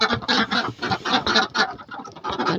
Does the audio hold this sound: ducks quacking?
yes